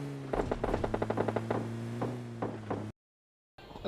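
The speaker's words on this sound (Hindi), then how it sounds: "अब देखो आपको AWM की आवाज़ आई होगी और M4 की आवाज़ आई होगी, मतलब AWM वाले ने M4 वाले को मार दिया।" Rapid gunfire crackles in the mobile game PUBG Mobile Lite, with the reports of an AWM sniper rifle and an M4 assault rifle. Quick bursts of shots come over a steady droning game hum before the sound cuts out briefly.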